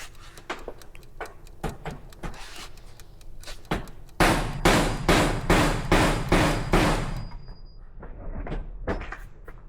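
A Milwaukee hammer drill bites into a gun safe's anti-drill hard plate in rapid, loud repeated bursts, irregular at first then a steady pounding run before a few final knocks.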